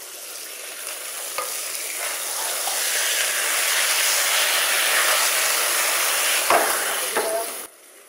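Shrimp being stir-fried with peanut sauce in a hot pan, giving a loud, steady sizzle that swells and holds, with a few sharp clinks of a utensil against the pan near the end.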